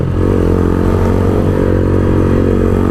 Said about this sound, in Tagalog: siguro napansin nyo din na mas maingay yung pipe natin